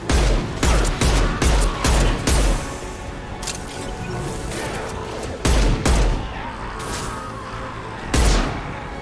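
Weapon fire in Mass Effect 2: a rapid burst of heavy booming shots near the start, then scattered loud blasts with echoing tails over a rumbling background.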